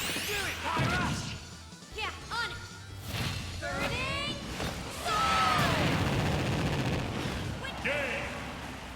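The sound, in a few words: smash attacks hitting opponents in a Super Smash Bros video game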